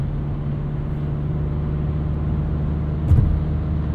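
A 2016 Volkswagen GTI SE with a six-speed manual, cruise control set to 75, drives at highway speed. Steady engine and road drone from inside the cabin with a slight rise, plus a brief knock near the end.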